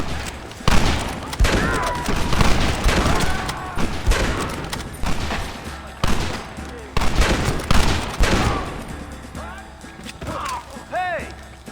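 Heavy gunfire in a Red Dead Redemption battle against the United States Army, repeated loud cracks and rattling volleys in clusters, with shouting voices and scattered impacts mixed in.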